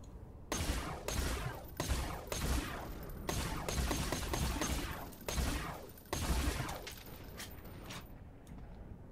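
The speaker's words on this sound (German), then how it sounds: "ich schieß gerade nur auf die Rugs" Gunfire in the video game Borderlands 2: loud, dense bursts of rapid shots with mechanical clatter, repeated again and again with brief pauses between volleys.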